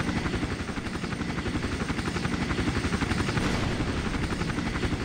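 Helicopter circling in the video game Iron Storm, a loud continuous rapid rotor chop with a dense engine roar, steady and close for the whole stretch.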